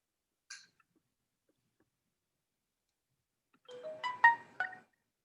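A phone ringtone going off during an online meeting, heard as a faint, distant chirp followed by a short run of quick melodic electronic tones, otherwise near silence.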